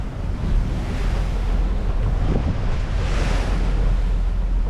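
Choppy open water slaps and churns around a boat cruising near the Statue of Liberty, with steady broadband surf wash and heavy wind buffeting the microphone throughout, no voices.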